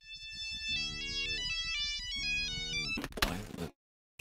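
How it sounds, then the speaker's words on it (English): A phone in the video game Who's Lila rings with a bright, repeating electronic ringtone melody that plays steadily for about three seconds. It ends in a short clunk and a burst of noise, then silence. "After the phone call ends, a second phone rings."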